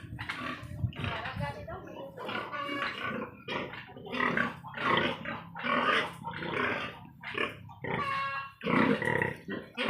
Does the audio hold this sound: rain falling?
no